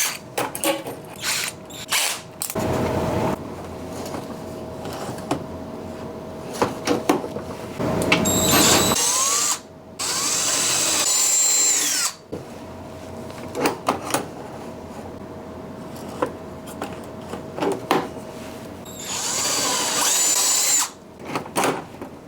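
A power drill whirs in repeated bursts into wood, stopping and starting several times, with high-pitched spinning and brief clicks between runs.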